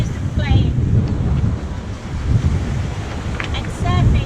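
Steady wind gusting across the microphone and waves rushing past the hull of a sailing yacht surfing downwind under mainsail alone, loud and constant, with brief voices and faint squeaks in the background.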